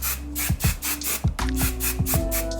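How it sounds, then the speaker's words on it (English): Chi Flexible Hairspray is sprayed onto braids in a series of short, close, hissing bursts, about seven quick spritzes in an uneven rhythm. "This is the Chi Flexible Hairspray. We are using this hairspray to keep everything in place."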